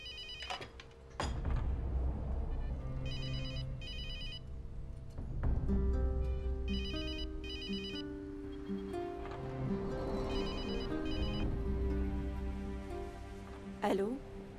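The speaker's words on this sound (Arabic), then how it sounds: "أبو لكريم متصل على الموبايل." A mobile phone rings in repeated bursts of electronic tones, over room noise and some soft movement.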